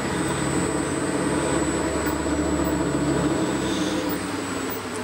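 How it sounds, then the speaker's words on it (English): A 1940s A.G.E. three-phase star-wound electric motor runs with a steady, loud, droning hum that stays nearly constant throughout, with no talking. "it's a star wound motor"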